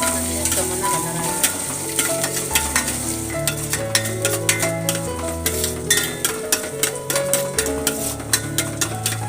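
Chunks of coconut fry in hot ghee with a constant close sizzle, punctuated by a regular series of light scraping stirs against the pan, no voices.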